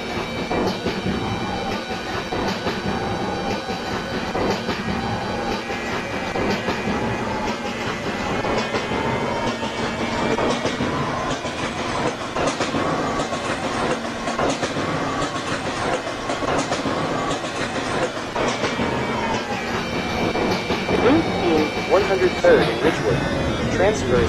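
An R143 Siemens subway train runs on the L Line in a Roblox game, a steady rumble with rhythmic clickety-clack of wheels and faint high squeal, continuous and fairly loud throughout.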